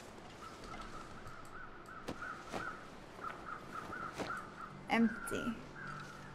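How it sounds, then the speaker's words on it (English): Crows cawing in the survival video game The Long Dark, a series of faint, repeated caws over a windy outdoor ambience with a slightly louder burst near the end. "let's go figure out what these crows are on about"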